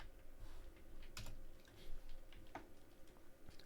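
Computer keyboard typed on while writing C# code, a quick irregular run of soft key clicks, faint and close, with no talking.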